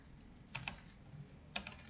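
A connection name is typed on a computer keyboard in two short, quiet bursts of clicky keystrokes about a second apart, with soft background noise between them.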